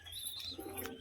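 Pigeons coo softly and steadily overhead, with a few brighter bird calls mixed in, from a flock of domestic pigeons kept for sale.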